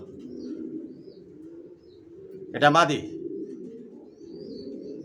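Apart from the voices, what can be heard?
racing pigeons cooing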